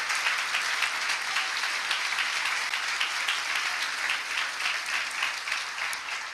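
A church congregation applauding during a Sunday morning worship service, a loud, continuous roar of many hands clapping that stays even throughout.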